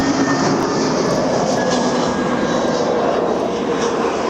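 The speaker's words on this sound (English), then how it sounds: "oh, here comes that aircraft, an airline, Air Cairo, that I spoke about earlier." An Air Cairo cargo jet landing at Barcelona airport, heard as a loud, continuous engine roar that holds steady and close throughout without voices.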